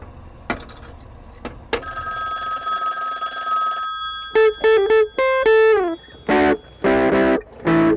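A telephone ringing in a phone booth by a busy road: a long electronic ring, then a series of short repeated bursts of ringing with brief gaps between them, over faint traffic.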